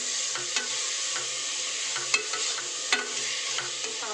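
Vegetables frying in a pan, making a steady close hiss of sizzling oil broken by a few soft stirring knocks and scrapes, with no voices.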